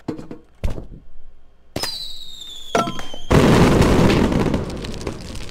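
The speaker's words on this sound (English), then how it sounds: "I have a feeling I gotta set the fireworks on fire" Fireworks burst in the video game Suicide Guy: two sharp pops, then a rising whistle with crackling bursts that swell into a loud, dense roar of explosions filling the last few seconds.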